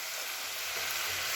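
Jute leaves (pat shak) frying with onion in a pan, a steady close sizzle and hiss filling the whole stretch with faint stirring scrapes underneath and no voices.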